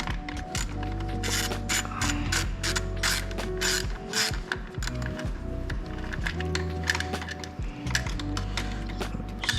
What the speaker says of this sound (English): So we've got our 1/4" ratchet, extension, angle socket, and 10mm bolt. So I'm gonna start by taking this bolt off the coil pack.